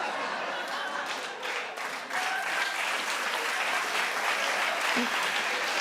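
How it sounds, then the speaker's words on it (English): Loud, sustained applause from a television talk show studio audience, many hands clapping close together in a dense, even roar that swells slightly partway through and runs for several seconds. "All right, clap a little louder."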